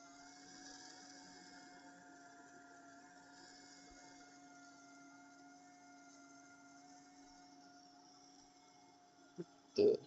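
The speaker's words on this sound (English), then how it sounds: "The voltage fluctuation is mostly coming from the pump cavitation while it's, pumping the liquid around" A small liquid pump cavitates while circulating fluid through a homemade thermoelectric generator of four cells in series, giving a steady, even mechanical hum with tonal overtones for the whole stretch, then a couple of brief, louder knocks at the very end.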